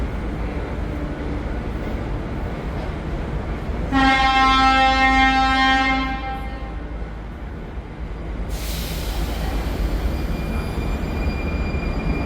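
A train rumbles through Veleslavín station in Prague with a loud two-second horn blast, followed by a high metallic squeal as it keeps rolling.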